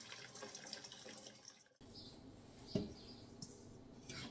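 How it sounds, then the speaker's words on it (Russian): Hot water at about 60 degrees runs into a mixing bowl with a steady, quiet splashing pour, a brief break partway through, then a faint clink as flow resumes. "В миску вливаем горячую воду."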